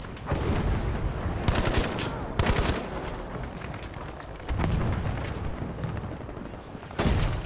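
Breda PG 1935 rifle fire in Battlefield 5 amid dense battlefield noise, repeated bursts and distant booms layered over a continuous rumble of combat.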